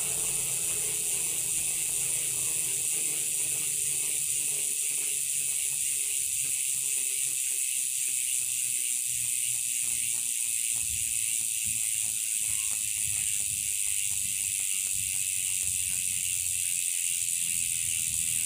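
A Speed 1 Soldier rear hub on a hybrid bike freewheeling, giving a fast, even ratchet-pawl clicking that runs steadily and fairly loud, close up with no talk.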